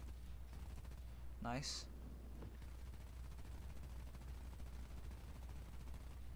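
Rockets fired from an aircraft in the War Thunder video game: one brief rising whoosh over a steady low engine drone, with a voice speaking briefly.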